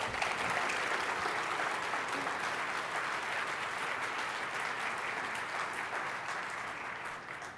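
Sustained applause from a large audience welcoming a speaker to the podium at a lecture, a dense steady clatter of clapping that holds throughout and tapers slightly at the end.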